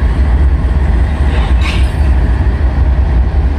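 CSX M426 freight train coupling to ex-Guilford engine 507 in Clinton, Massachusetts: a steady loud low rumble of idling locomotive and railcars with a brief metallic squeal partway through, no voices.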